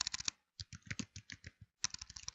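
A folder name being typed on a computer keyboard, quick bursts of close, crisp key clicks separated by a brief pause, fairly quiet.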